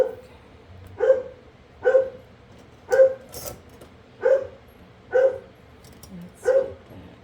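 A dog barks repeatedly indoors, six or seven sharp single barks spaced about a second apart, fairly close and loud over a quiet room.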